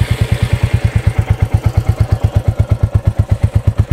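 A Royal Enfield Classic 350 Reborn single-cylinder motorcycle idles close up, its exhaust giving a steady, deep, evenly spaced thump with a bassy tone and light mechanical clatter.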